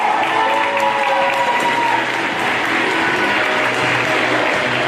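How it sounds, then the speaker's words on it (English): A loud crowd at a high school boys' basketball game applauds the graduating senior class, producing sustained, dense clapping with some cheering and a voice faintly heard in the mix. "Class of 2025, a round of applause."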